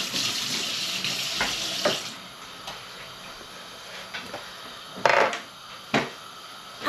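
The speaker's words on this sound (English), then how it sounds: "Give your knife a quick wash," Tap water runs into a kitchen sink while a knife is rinsed during cooking of coq au vin, a steady close hiss broken by a few clinks and splashes.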